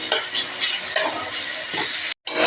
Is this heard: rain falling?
no